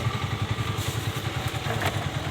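Motorized tricycle engine chugs while riding, a close, rough, rapidly pulsing low rumble with rattling clatter, steady for a couple of seconds with no talk.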